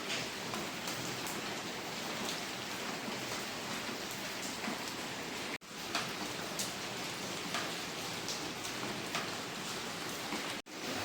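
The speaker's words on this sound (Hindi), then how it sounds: "देखिए गाइस फिर से बारिश होने लगी।" Steady rain pours down with a dense, even hiss, continuous and fairly close, with no voices.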